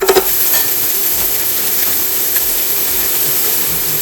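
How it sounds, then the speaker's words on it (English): Ground beef sautéing in a pan gives a constant, fairly loud sizzle and hiss throughout, with a few scraping stirs at the very start and no voices. "I'm going to go ahead and put the ground beef in there with this"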